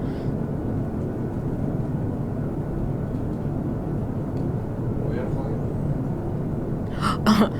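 A steady low airplane cabin rumble drones throughout, even and continuous, with a couple of brief sharper sounds near the end.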